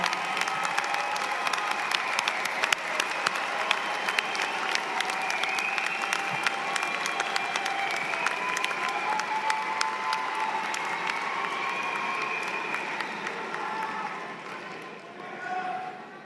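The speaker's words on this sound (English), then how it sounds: "give them a big round of applause" Graduates at an SNHU online graduate programs commencement ceremony applaud their families and supporters with a sustained, dense wave of clapping and scattered cheers that fills the hall for over a dozen seconds before tapering off near the end.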